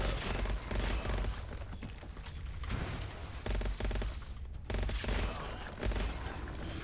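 Rapid gunfire from a high rate-of-fire weapon in Gunfire Reborn, dense continuous bursts with brief pauses between strings of shots, loud and up close, with no voices.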